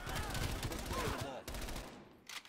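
Rapid automatic gunfire rattles through a firefight in Call of Duty Black Ops Cold War, a dense burst of shots followed by a short break and a few more pops near the end, fairly loud with no voices.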